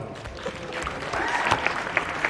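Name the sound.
applause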